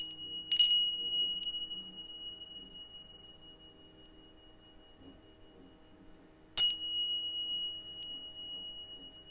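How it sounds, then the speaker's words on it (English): Tibetan bells struck twice several seconds apart, each strike ringing out as a bright, sustained metallic tone that slowly fades over a faint background hum. "I'm going to just get you to listen to the sound of these Tibetan bells."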